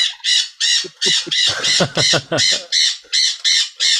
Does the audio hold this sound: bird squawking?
yes